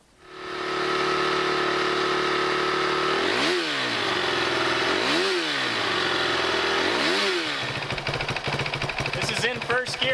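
A motorcycle fitted with a Rekluse EXP 3.0 clutch revs in first gear, its loud close engine rising and falling in three sharp throttle blips over a steady drone, then settling into a rough, choppy idle.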